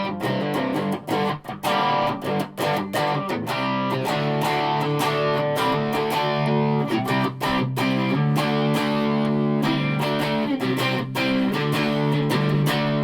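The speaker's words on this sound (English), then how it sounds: "even though I'm using power chords and with distortion when I'm in the middle position" Distorted electric guitar power chords from a maple guitar with P90 pickups in the middle position ring out loud and full, struck in a steady rhythm with brief choppy breaks between strums.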